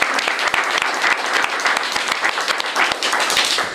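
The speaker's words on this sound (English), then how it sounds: "Let's give her a round of applause." An audience claps at a community recognition in historic downtown Frederick, a dense steady round of applause that holds loud for several seconds.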